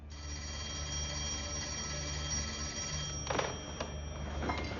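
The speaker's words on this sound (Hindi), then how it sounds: "आपको फोन उठा लेना चाहिए मिस्टर शेल्बी।" A telephone rings close by with a steady electronic trill over a low background hum, with a few sharp clicks toward the end.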